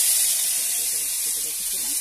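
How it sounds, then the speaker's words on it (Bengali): Whole garam masala, cumin and bay leaf hit hot oil with a steady, bright hiss that runs the full two seconds, and a faint voice murmurs underneath. "এবার আমি ওই তেলেই গোটা গরম মশলা, জিরে আর তেজপাতা ফোড়ন দিয়ে দেবো।"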